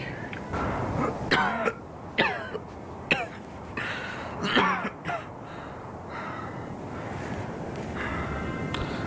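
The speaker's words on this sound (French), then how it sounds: "C'est pour ça qu'il tousse." A series of harsh, raspy coughs from a character in polluted air in the video game Backrooms, level 28, several bursts spaced a second or so apart, close and fairly loud over a steady windy background.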